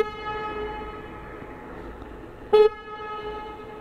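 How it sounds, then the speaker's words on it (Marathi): A single short, loud vehicle horn blast echoes inside a Mumbai–Goa highway tunnel, standing out over a steady hum of traffic and engine drone. "आता आपला हॉर्नचा आवाज आहे का, हॉर्नचा आवाज ऐकू आपण बोगद्यामध्ये"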